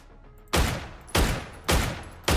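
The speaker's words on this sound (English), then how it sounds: "I hear so many shots." Gunfire in the PUBG video game: four loud, sharp shots spaced roughly half a second apart, each a sudden blast that decays quickly, heard without talk.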